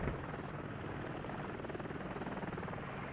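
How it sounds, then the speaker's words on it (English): A helicopter in a military video game set at Tallil gives off a continuous, fairly loud rotor thrum with a rapid pulsing chop, heard alone without speech. "Helicopter might get tagged here."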